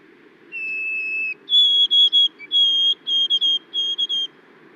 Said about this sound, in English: Eastern version sounds like this